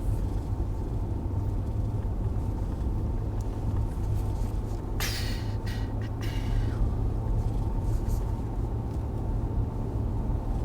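A pickup truck cruises down a road with a steady low engine and tire rumble. Around the middle a brief whooshing burst passes by, then the drone carries on evenly.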